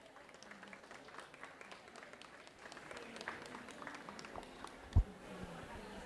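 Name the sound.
audience applause at book presentation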